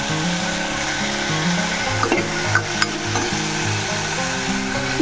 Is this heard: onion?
yes